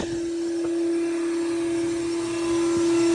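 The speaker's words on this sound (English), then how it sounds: "All right, so we're blowing the lines out now. This is the drain blowing." Pool blower forcing air through the drain lines of a fiberglass swimming pool with a hot tub, a steady loud droning whine with a strong constant tone throughout.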